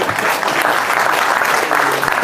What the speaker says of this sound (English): Let's clap it up for some of the youngsters in here.